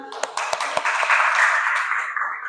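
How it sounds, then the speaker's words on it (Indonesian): Students in a secondary school chemistry classroom clap their hands, a few sharp separate claps at first that merge into brief group clapping, with voices talking over it. "Oke, beri tepuk tangan."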